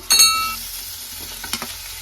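Tomato being stirred into frying onion and chili in a pan for egg kheema, a brief scrape and sizzle at the start, then faint frying with a few utensil clicks near the end.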